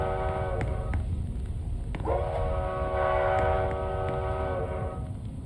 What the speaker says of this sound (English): you can also use this train horn from a distance